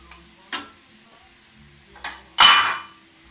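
Celery is tipped into a pot of beans cooking on the stove. A couple of light utensil clinks come first, then a louder burst of sizzling hiss as it lands, rising sharply and fading over about a second, close by.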